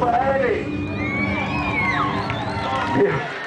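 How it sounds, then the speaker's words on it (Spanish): An outdoor live-concert crowd at the Malecón del Salado roars and whoops, with loud, close shouting and whistling that rises and falls over a few seconds. "Un aplauso para él."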